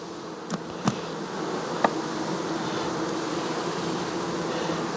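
A honeybee colony hums steadily during a late-season hive check with drones present, a close, even buzz broken by a few sharp clicks and knocks near the start.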